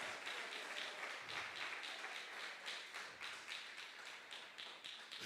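Church congregation applauding during an evening service, a distant, fairly faint and even patter of many hands clapping, sustained with slight rhythmic pulses.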